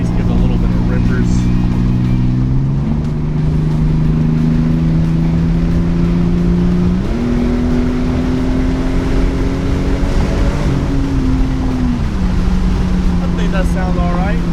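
A modified Lexus SC300 with a 2JZ-GTE engine and automatic transmission revs up close and loud, its engine note stepping higher twice in sustained pulls before dropping back to a steady idle.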